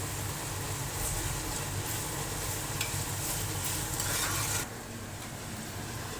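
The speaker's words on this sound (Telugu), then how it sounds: "ఆనియన్స్ ఫ్రై అయ్యే లోపల నేను" Onions fry in a pan with a constant dense sizzle that stays level for several seconds, then drops a little quieter near the end, with no voices.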